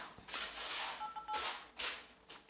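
Brief dialing tones beep on an OPPO Find X3 Lite phone, faint and close, among soft rustling handling noises.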